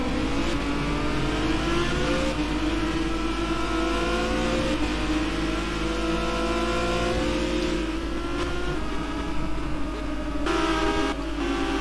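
Renault Megane race cars in a racing video game at Paul Ricard, engines droning and rising in pitch as one car overtakes another, loud and continuous with overlapping revving tones throughout.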